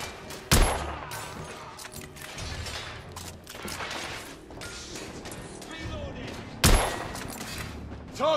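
Two heavy, sharp blasts from a grenade launcher in a Victorian-era shooter punch out several seconds apart, close and loud over a busy backdrop of scattered gunfire and clattering, with speech mixed in.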